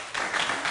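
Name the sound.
congregation applause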